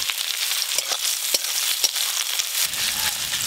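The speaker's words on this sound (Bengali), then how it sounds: "ফোড়নে দেবো শুকনো লঙ্কা, পেঁয়াজ কুচি" Dried red chillies and chopped onion sizzle in hot mustard oil in a wok, a steady close crackling hiss with sharp spitting pops scattered throughout.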